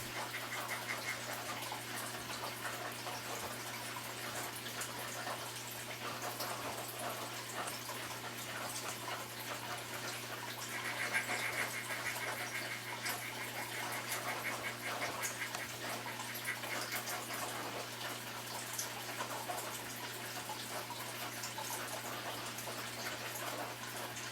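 Soft, steady water splashing and trickling in a crested gecko enclosure runs throughout at low level, with a constant low hum underneath and no voices.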